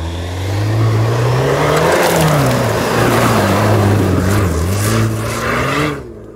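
A Jeep Wrangler with a 2.0-litre turbo engine climbs off-road hills, its engine droning loud and close with rising and falling revs under load for several seconds before cutting off abruptly.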